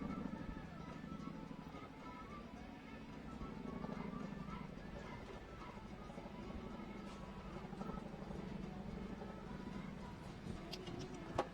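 A show jumping horse in a World Cup jumping arena, its hooves drumming a steady cantering rhythm on the arena footing, faint and distant under a continuous low crowd and arena hum.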